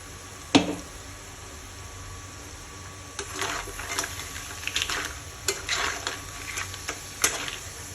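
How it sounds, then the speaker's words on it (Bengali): Onion spice paste frying in a pan for a crab curry, a low steady sizzle broken by a sharp clank and then a run of scraping stirs and spatula taps, close, with no talking. "এখানে প্রায় আমার মশলাটা কষানো হয়ে গেছে"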